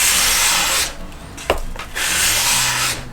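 A Mora Companion knife drawn across an 800 grit sharpening stone: long, steady, gritty strokes at close range, broken by a short pause with a sharp tap before the stroking resumes, with no talk.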